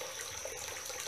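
Running water trickling into a small backyard pond, a soft, continuous splashing wash, quiet and steady throughout.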